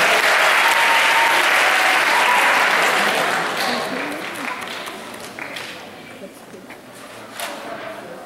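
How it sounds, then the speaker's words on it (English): Audience applause at a Queens College magic talk, a broad sustained wash of many hands clapping that starts loud and gradually thins and fades over several seconds. "One more round of applause for Ethan."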